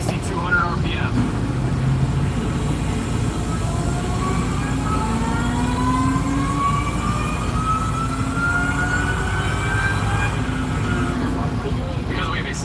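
An engine with a stock unported blower revs up toward 6,200 RPM, its whine climbing steadily in pitch over a heavy, loud, sustained roar lasting many seconds.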